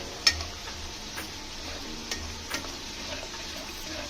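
Amul cream is mixed into kadai paneer gravy with quiet stirring and soft wet swirls. A few light utensil taps and clicks sit over a low bubbling hum from the pan.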